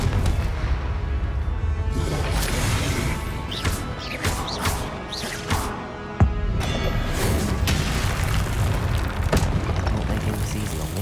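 Repeated fiery blast spells from a wizard duel in Hogwarts Legacy, loud booming explosions and crashes layered over a rumbling, chaotic battle soundscape, with a sharp hit midway and ongoing impacts.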